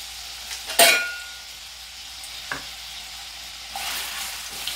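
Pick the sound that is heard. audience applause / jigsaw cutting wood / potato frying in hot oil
potato frying in hot oil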